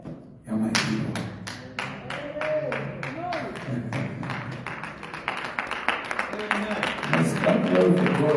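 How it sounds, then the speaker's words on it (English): A church congregation claps in rhythm, steady hand claps repeating roughly every third of a second, close and fairly loud, with singing or voices underneath. "Let's clap for the Lord."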